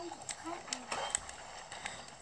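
A horse's hooves clip-clop in the Fortnite video game, a series of light, sharp knocks at an irregular pace, fairly faint, with other game sounds around them.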